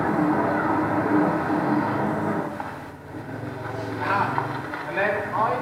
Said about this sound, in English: I went on a railway that's called the Bamboo Railway